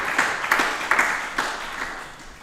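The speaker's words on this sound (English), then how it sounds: "Can we have a round of applause for that?" A short, thin round of applause from a few people at a lecture, with scattered uneven claps that soften toward the end.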